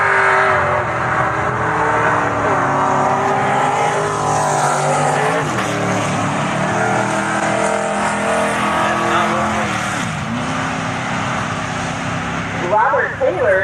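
Turbo LS-swapped C10 pickup at a drag strip, its engine roaring steadily near red line with rising and dipping pitch through gear changes, loud and continuous, with talk faintly over it.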